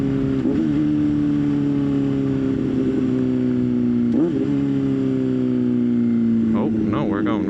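A motorcycle is ridden on the road, its engine droning steadily close by. The pitch sags and then jumps at a few quick downshifts, and rough, crackling bursts come near the end.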